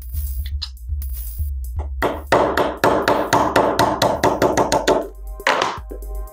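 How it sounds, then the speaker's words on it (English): A hammer strikes a roll pin punch on a punch block to drive out the ejector pin of a Remington 700-style bolt-action rifle: a few spaced taps, then a rapid run of about a dozen sharp metallic blows. "take a roll pin punch and just knock it out"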